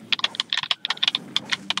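Rapid, close computer keyboard typing during a gaming session, with crisp, uneven bursts of key clicks clattering in quick succession.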